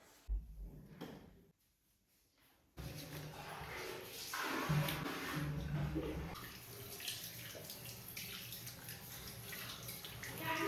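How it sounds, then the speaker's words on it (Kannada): Tap water runs into a basin while a face is washed: a brief splash, a quiet pause, then a continuous rush of flowing water with splashing and handling noises, fairly close and alone without talk. "ಬನ್ನಿ ಮುಖನ ತೊಳ್ಕೊಳ್ಳೋಣ."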